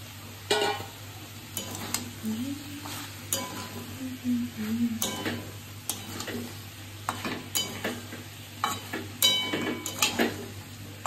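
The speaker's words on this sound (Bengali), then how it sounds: "এরপর চিংড়ি মাছগুলো দিয়ে দিচ্ছি, সবগুলো দেবো, সবগুলো দিই।" Prawns tipped into a hot cooking pan in a home kitchen, with a soft sizzle under repeated metal spoon scrapes and clinks as they are stirred, close and intermittent.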